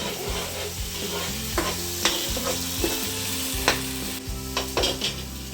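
Garlic and green chillies fry in a pan for Ambur-style chicken biryani, a loud continuous sizzle and crackle with occasional clinks and scrapes of stirring.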